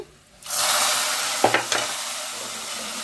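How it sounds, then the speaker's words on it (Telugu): Hot oil tempering with asafoetida poured into Andhra-style wedding sambar hits with a sudden loud sizzle that holds as a steady, crackling hiss, with a couple of brief clinks partway through. "ఇప్పుడు సాంబార్లో వేసేద్దాము ఈ పోపుని"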